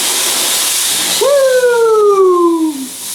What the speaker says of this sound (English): Today I'm going to be doing a review on the Grobell Fast Heating Steam Cleaner.